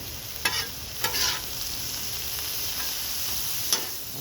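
Chopped mushrooms sizzling steadily on an outdoor griddle at night, a continuous broad fry hiss with a few brief scrapes or stirs, close and alone without talk.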